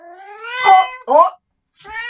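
A cat meows loudly up close, two drawn-out plaintive cries in quick succession, a short silence, then another meow beginning.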